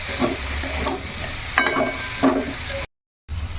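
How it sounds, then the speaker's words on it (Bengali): Ground spices and a little Kashmiri chilli powder sauté in a pan with a steady close sizzle, broken by repeated scraping stirs of a spoon, then a brief dropout before the frying resumes. "এখন এগুলো একসঙ্গে ভালো করে কষাবো"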